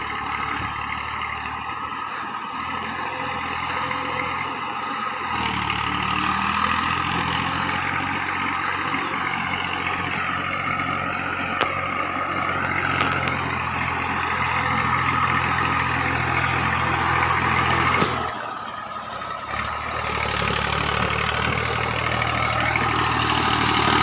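Tractor engine running steadily while pulling a fully loaded 13-foot trolley, a continuous low droning rumble close by with a brief dip in level before it picks back up, no talk.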